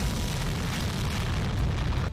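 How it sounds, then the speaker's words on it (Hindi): A GPS-guided bomb dropped by an F-16 detonating during a military exercise, heard as a sustained, loud, broadband roar of blast rumble that fills the moment before cutting off abruptly. "F-16 लॉन्च करता है एक GPS गाइडेड बम जो अपने टारगेट पर सटीक जाकर हमला करता है।"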